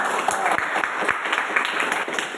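Children in a classroom applaud together for the class, a brief steady wash of clapping at moderate loudness with a faint background hum.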